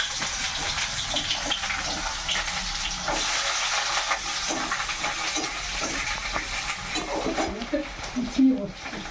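Chopped onion hits hot oil already tempered with cinnamon, cardamom and cloves in a kadai, giving a steady, loud sizzling hiss that continues throughout.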